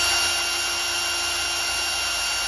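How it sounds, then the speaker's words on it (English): A small drill bit bores a pilot hole in an acrylic plexiglass sheet, giving a loud, steady, high-pitched whine with an even grinding texture throughout and no voices. "But I'm just pilot drilling these with a small drill."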